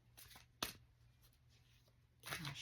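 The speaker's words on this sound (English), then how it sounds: "shuffle." Tarot cards are shuffled in a few quick riffling bursts, soft and close, with quiet pauses between them.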